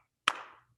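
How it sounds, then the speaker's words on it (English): A single sharp hand clap during a children's storytime, close and crisp, with a short decay and no talk over it. "But most of all, she loved to clap."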